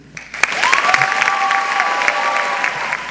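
Audience applause at a 2015 high school graduation ceremony, a steady broad wash of clapping from a large crowd, with a faint tone running through part of it.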